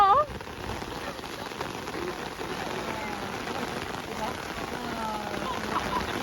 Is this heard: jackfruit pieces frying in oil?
no